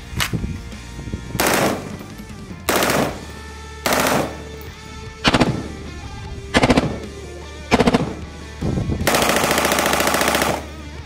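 Full-auto gunfire from a PTR Industries rifle at a Colorado range: seven loud, close bursts with short pauses between, ending in a longer sustained burst, with no talk over the shots.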